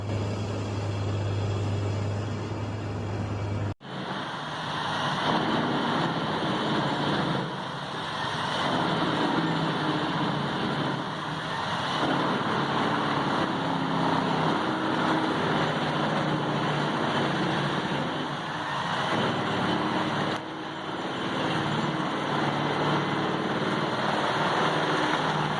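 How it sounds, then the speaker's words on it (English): A Vermeer wood chipper shreds timber into chips at a forest clearing, a loud, steady engine roar with churning grinding that runs continuously, briefly dipping near the start. "high-speed blades shred the timber into fine chips, blasting them into the truck's container with relentless rhythm"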